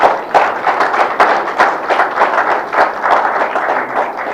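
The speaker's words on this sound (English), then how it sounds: "I want us to give ourselves a big round of applause" Audience at a national assembly gathering clapping together, a dense, steady round of applause close by with sharp individual claps rising and falling throughout.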